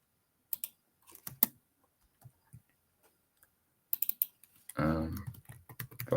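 Keystrokes on a computer keyboard, scattered clicks and short bursts of typing at close range, quiet and intermittent, with a brief stretch of voice partway through.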